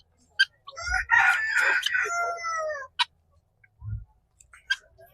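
A country rooster on a free-range poultry farm gives one loud, close crow, followed by a few short clucks and scattered chicken calls among quiet gaps.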